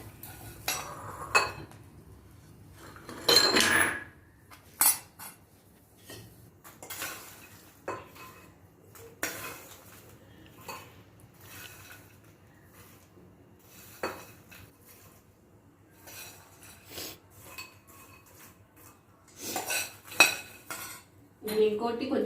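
Spoon and pan clatter as phool makhana (lotus seed) snack is scooped out of a pan after the stove is switched off, with scattered clinks and scrapes across the stretch and a louder burst of utensil knocks near the start and end.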